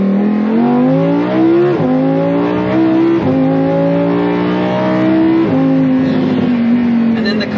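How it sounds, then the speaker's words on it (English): Very loud naturally aspirated V10 engine revving hard through several rising pulls, each climbing in pitch then dropping at a gear change, continuous and close-up. "very loud V10 naturally aspirated engine"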